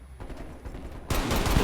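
Gunfire in the video game Call of Duty Cold War, a short muffled burst followed by a louder, denser blast of shots over a low rumble, with no talk.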